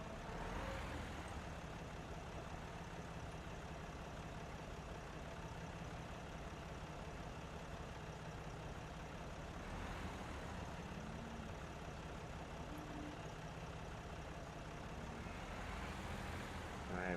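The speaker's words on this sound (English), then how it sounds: "and then we can put our tractor back in the shed" Tractor engine idling in the Farming Simulator video game, a steady low continuous drone at constant level with no talking.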